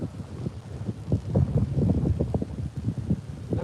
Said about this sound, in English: At least there's wind now.